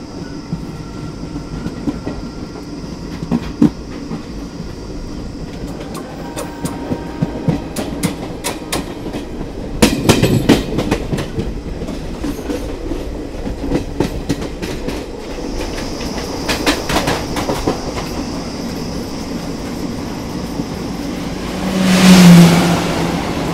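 An Indian Railways train rolls past on the line near Bhilai Nagar in the Durg link block section, a loud, sustained rumble with rhythmic clickety-clack of wheels over rail joints and rising noise near the end.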